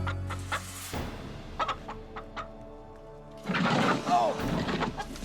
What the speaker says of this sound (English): I got it! I got the chicken!